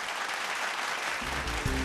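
Audience applause for a singer from Port Moresby at a televised vocal competition, a dense steady wash of clapping throughout, with low musical tones rising underneath in the last moments.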